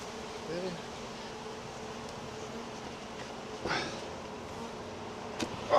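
Honey bees buzzing during a beehive inspection, a continuous near droning hum with individual bees flying close past the microphone, plus occasional handling knocks.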